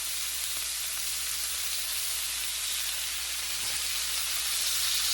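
Oil sizzling steadily in a hot skillet while cooking chicken for a loaded baked potato, a continuous bright hiss with no talking.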